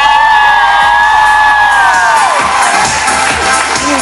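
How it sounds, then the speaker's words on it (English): A loud crowd at a beauty awards show in Australia and New Zealand cheers, whoops and yells together, with high-pitched shouts easing off after a couple of seconds. "I want everyone to cheer and clap"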